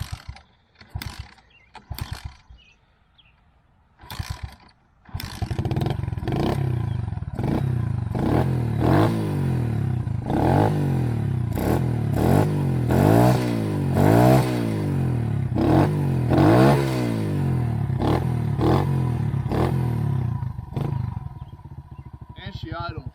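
A Kawasaki KLX110 pit bike starts after a few sputters and cranks, then its small single-cylinder engine revs up and down repeatedly in sharp, close bursts before settling toward idle.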